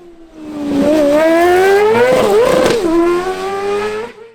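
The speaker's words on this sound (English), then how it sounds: "And here comes the Class 13 leader, Philip Armstrong." A Class 13 rally car roars past at speed on a winter rally stage at Shackleton, engine note rising and dipping with gear changes, loud and close before fading away.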